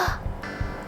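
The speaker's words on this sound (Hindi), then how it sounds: "ये आवाज है कौवे की." A crow caws three times in quick succession, loud and close, with harsh rasping calls and no talking.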